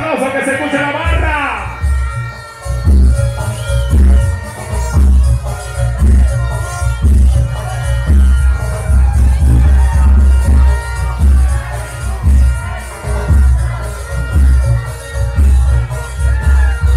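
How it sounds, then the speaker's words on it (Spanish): A crowd cheers and applauds a costumed entrant at a Masaya Agüizotes costume contest in Nicaragua, loud and sustained, with whoops, rhythmic clapping and a steady pounding beat of outdoor festivity throughout. "Fuerte los aplausos, que se escuche la barra."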